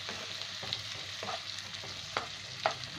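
Two small chopped tomatoes frying in a pan for omelette curry, a continuous moderate sizzle with occasional spatula scrapes and taps, no voices.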